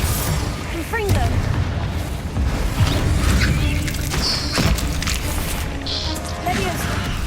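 Confringo blasting spells go off in the Hogwarts Legacy video game, giving dull booms and bursts within busy game effects, with a voice talking over them throughout.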